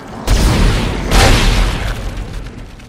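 Two heavy booming bomb blasts in the video game Dead Space, one right after the other, each with a long rumbling roar that slowly fades.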